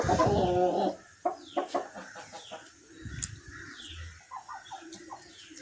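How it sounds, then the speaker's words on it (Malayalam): Laying hens in a backyard poultry flock clucking: one loud close burst of clucking at first, then a series of shorter scattered clucks and calls at varying distances. "എല്ലാം മുട്ടയിടുന്ന കോഴികളാണ്"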